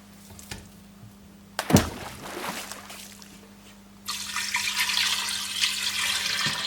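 Water poured into a cooking pot over cubed veal set on low heat, a broadband rushing pour starting about two-thirds through and continuing steadily to the end, preceded by a clank of handling.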